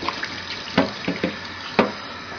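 Water runs from a mini shower while a pet guinea pig is bathed, a continuous splashing stream with a few sharper splashes and knocks near a sink.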